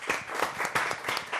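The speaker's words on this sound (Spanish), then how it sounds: "Yo le voy a pedir un aplauso al equipo técnico" A short burst of lively clapping from a seminar audience honoring the technical crew at a closing session, uneven claps rising and falling close by with no talk over them.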